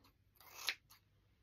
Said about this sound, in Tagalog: Kaluka naman itong gunting ko eh.